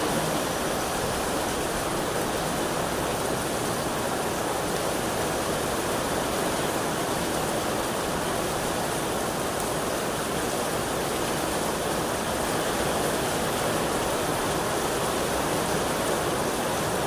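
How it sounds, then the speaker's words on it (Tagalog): Steady, dense roar of heavy rain pouring continuously, loud and close, with no voices. "Sobrang lakas ng ulan, guys."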